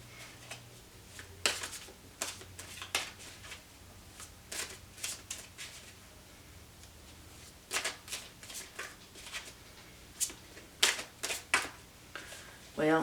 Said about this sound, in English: Whenever I shuffle seriously like this